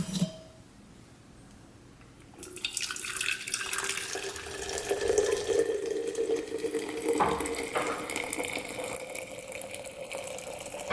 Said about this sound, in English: I like to just pour it all into a mason jar